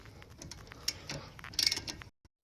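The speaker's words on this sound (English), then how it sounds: "the two caliper bolts are going to be 14 millimeters, so go ahead and remove this." Ratchet wrench loosening the 14 mm brake caliper bolts on an Infiniti Q50, quiet irregular clicks and metallic ticks up close, then stopping abruptly.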